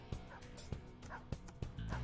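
Dog barking in Persona 5 Royal, a game enemy: four or five sharp barks spaced about half a second to a second apart, mid-distance, over a steady bed of game music and ambience.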